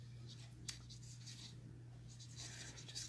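Stampin' Blends markers coloring flowers on a card embossed with a Country Floral embossing folder, making faint, soft scratchy strokes over a low steady hum.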